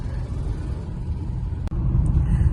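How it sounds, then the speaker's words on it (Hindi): Heavy road traffic in Delhi heard from inside a car, a steady low rumble of engines and tyres throughout with a brief dip partway, no talk. "फुल ट्रैफिक है।"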